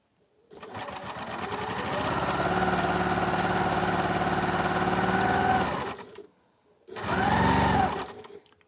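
A sewing machine stitches a quilt in one steady, loud run of about five seconds, stops briefly, then gives one more short burst of stitching. No one talks.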